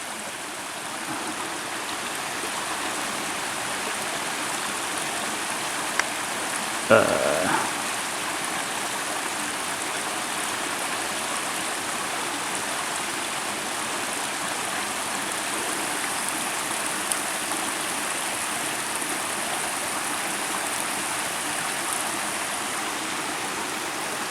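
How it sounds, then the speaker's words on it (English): A stream bubbling beside a trail at Pixley Falls, a steady soft rush of flowing water throughout, heard alone with one brief knock partway through. "Something bubbling up over there."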